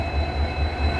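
A Garib Rath express on Indian Railways rolls past close by with a steady, heavy rumble and a constant rush of wheels and carriages, no voices over it.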